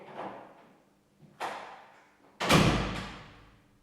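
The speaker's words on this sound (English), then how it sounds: "I'll even shut the door." A door is shut during a paranormal investigation: a soft knock, a sharper thud, then a heavy close slam near the end, each ringing out briefly in a quiet room.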